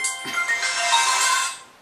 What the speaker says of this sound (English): hear my ringtone?